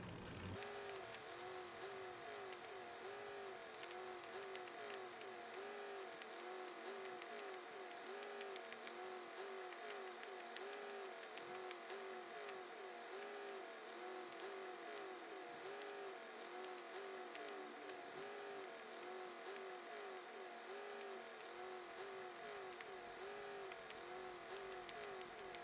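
A truck engine drones steadily as the vehicle drives through the power plant level of Human: Fall Flat, with a continuous, gently wavering hum that holds at an even, moderate level throughout.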